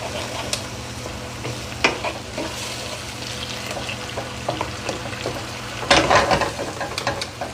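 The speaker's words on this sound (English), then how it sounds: "now we're going to deglaze it right now" A pan being deglazed while zucchini and eggplant cook, giving a moderate steady sizzle with intermittent clicks of stirring and a louder hissing surge when the liquid hits the hot pan near the end.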